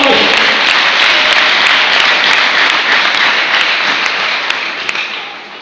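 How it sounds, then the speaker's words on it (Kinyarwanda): A church congregation claps in loud, dense applause that holds steady for several seconds, then thins slightly toward the end. "Dusabye amashyi n'iterero ry'abera."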